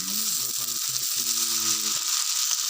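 Javanese fried rice (nasi goreng Jawa) sizzles and fries in a hot pan. It makes a steady, close, bright hiss with faint low murmuring underneath.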